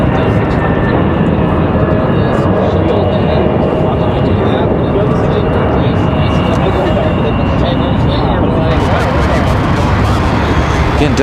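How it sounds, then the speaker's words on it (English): A Delta airliner departing Raleigh Durham airport for Orlando roars loudly and continuously at close range, a heavy broadband rumble that persists throughout, with someone speaking over it. "Delta 2232 off to Orlando."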